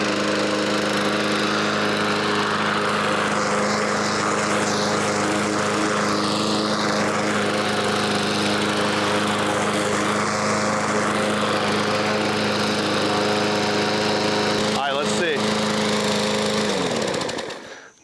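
A troublesome lawn mower engine runs steadily and loudly close by, a constant droning hum with strong harmonic tones, cutting out abruptly at the very end.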